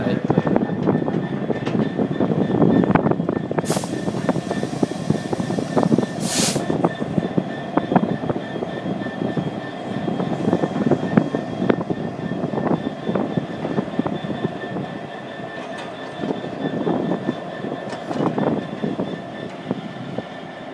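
A Class 66 diesel locomotive at Peterborough station rumbles steadily and loudly throughout, with a broad rolling roar, wind buffeting and a few brief high squeals over the continuous train noise.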